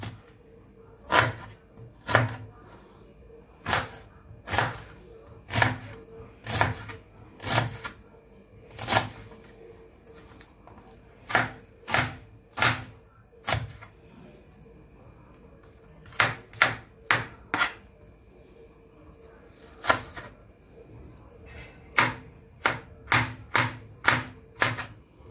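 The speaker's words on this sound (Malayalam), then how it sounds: "ഈ സവാള എടുത്തിട്ട് അതെടുത്ത് അരിയുന്നു" Onion being finely chopped with a knife on a board for an oats breakfast dish: sharp, close knocks come in quick bursts of several strokes, with short pauses between runs and no talking.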